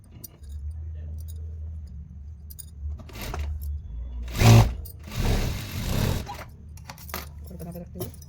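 A sewing machine runs a fine stitch along the back panel of a padded blouse, its low steady motor hum broken by a few louder rattling and clunking bursts as the cloth is handled. No one speaks.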